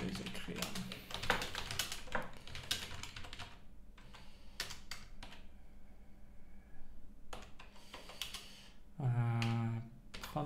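Typing on a computer keyboard: bursts of quick, close key clicks with short pauses between, then a brief low hum near the end, in a quiet room.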